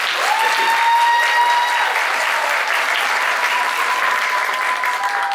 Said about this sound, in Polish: Myślę, że dla wszystkich sponsorów jeszcze raz ogromne brawa.